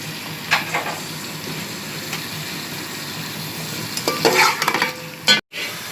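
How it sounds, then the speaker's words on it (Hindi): Onions sizzle in hot oil with a steady crackling hiss, broken by scraping stirs of a utensil in the pan. "मैंने इसमें ऑयल डाला और मैं ये प्याज इसमें फ्राई करूँगी।"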